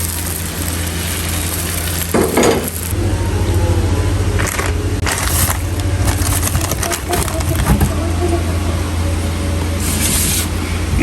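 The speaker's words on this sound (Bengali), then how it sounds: "একটা ডিম মামলেট করে নিচ্ছি" An egg omelette frying in a pan gives a steady, close hiss and sizzle with occasional louder crackling bursts, continuing throughout.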